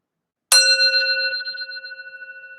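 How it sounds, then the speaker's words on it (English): A single bright bell strike rings out after a moment of silence, its clear metallic tone sustaining and slowly fading with a gentle shimmer. "I gotta ring the bell for your people."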